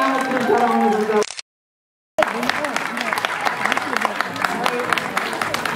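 An audience at a Gurung community award ceremony in the Sikles community hall claps. A voice speaks first, then a short silent break gives way to sustained, lively crowd applause that fills the rest of the clip.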